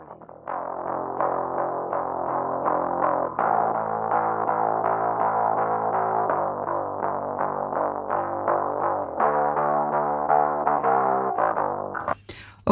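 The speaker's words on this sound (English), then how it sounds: "I'm using a distortion plugin to just create a bandpassed version of the bass guitar that I am heavily distorting" Bass guitar heavily distorted through a distortion plugin, a band-limited gritty tone playing a continuous sustained riff with shifting notes, loud and alone, ending with a brief noisy burst.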